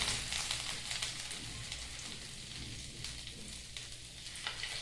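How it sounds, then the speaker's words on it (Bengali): Chopped ginger hits hot oil that is already frying whole spices for a Bengali paneer bhapa with poppy seed. It makes a steady, close, broadband sizzle with no talk. "ফোড়নটা খুব সুন্দরভাবে ভাজা হয়ে গেছে, এখন দিয়ে দেবো সামান্য আদা কুচি"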